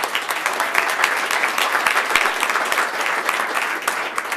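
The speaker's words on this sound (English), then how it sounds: "So big round of applause to welcome them to the family." Steady audience applause at a 1 Million Cups startup gathering in Kansas City, dense continuous clapping from a crowd with no speech over it, holding at an even level throughout.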